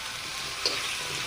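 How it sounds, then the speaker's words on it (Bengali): Spices, chilli, onion and garlic fry in a pan with a continuous close sizzle and a brief stir sound partway through. "রসুন সব রকম মশলা দিয়ে দিচ্ছি, ভেজে দিচ্ছি ভালো করে।"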